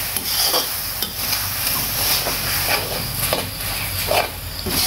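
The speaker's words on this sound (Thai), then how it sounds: "ผัดให้เครื่องปรุงเข้ากัน" Shrimp stir-fried with shrimp paste, oyster sauce and seasonings in a pan, a continuous close sizzle with soft scraping and stirring strokes of a utensil against the metal, no talking.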